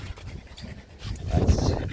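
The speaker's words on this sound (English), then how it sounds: "that's the sound of one very hot little dog." A small dog panting hard on a hot day outdoors, quick rhythmic breaths close by that grow louder and heavier toward the end.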